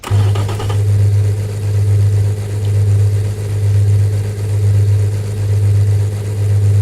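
A 1.6-liter V10 engine is held at 12,000 RPM in the Automation car-building game, producing a loud, continuous, steady howl with a gently pulsing drone and no speech.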